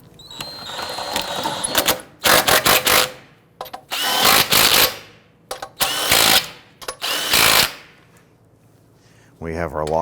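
Power tool snugging down the front lower control arm bolts on a 2008-2013 Infiniti G37: loud bursts of rattling impact hammering close by, several separate runs of a second or so with quiet gaps between.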